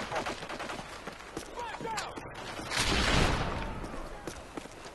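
Rapid gunfire crackles in a Call of Duty: Modern Warfare 3 Demolition match on the Hardhat map, with a Type 95 rifle in play. Bursts of shots pile up into a louder, denser volley in the middle, and voices are heard underneath.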